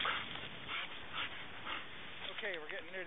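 A German Shorthaired Pointer whimpers on a snowy trail during a snowstorm. A few high, wavering whines rise near the end over steady outdoor noise, with people talking.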